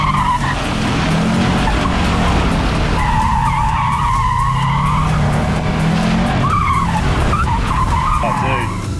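A Subaru Levorg skids with loud, sustained tire squeal, the pitch sliding up and down as the car slides, close and dominant throughout.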